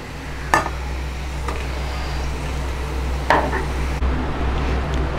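Golden-fried onions scraped from a frying pan into a vessel while making beef biryani, a few sharp metallic scrapes and clinks over steady low kitchen hum and faint sizzle.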